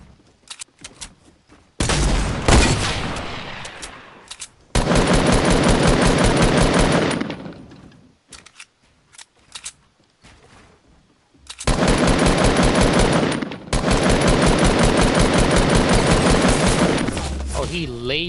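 Fortnite gunfire, long loud bursts of rapid automatic fire with short gaps between volleys, close and intense, with a voice briefly heard.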